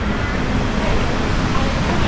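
Steady, broadband rushing water from Git Git Waterfall in Bali roars continuously at close range, a dense even wash of noise with no pauses.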